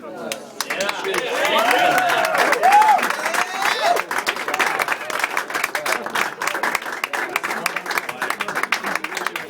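A roomful of guests at a roast breaks into sustained clapping and cheering after a toast, dense and continuous, with whoops and voices rising over the applause throughout.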